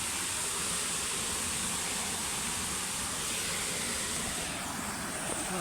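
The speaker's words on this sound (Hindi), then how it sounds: "पानी की छोटी छोटी ढलाएँ पहाड़ों से आकर यहाँ पे आके झरने का रूप ले लेती हैं" Water from small streams tumbling off the hills at Silver Waterfall in Pachmarhi, a constant broad roaring rush, steady and fairly close, with no talk over it.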